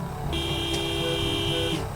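A military jeep fitted with a recoilless rifle, in a Thai army roleplay game, sounds its horn once in a steady, loud, sustained honk of about a second and a half over background hum.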